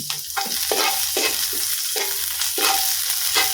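Onions fry in a pan, a bright sizzle rising in rhythmic surges as a spatula stirs and scrapes them roughly every half second, close and with no one talking.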